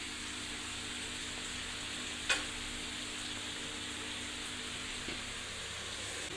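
Egg fry cooking in a pan gives off a steady, moderately faint frying sizzle with one sharp utensil clink partway through and a softer tap near the end. No voices are heard.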